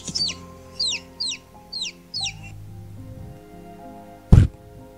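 Chicks chirp in a series of about five quick, high, separate peeps over a low hum, followed by a sudden loud thump near the end, with no talk.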